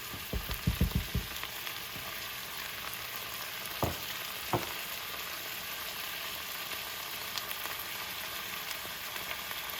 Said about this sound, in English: So I'm just going to throw those in and let it continue to saute.